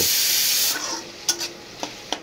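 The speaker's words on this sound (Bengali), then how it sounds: "উস্তা ভাজার পর্বটা চলতেছে" Bitter gourd sizzles loudly in a hot pan with eggplant, then the frying fades to a softer hiss broken by a few sharp scraping stirs.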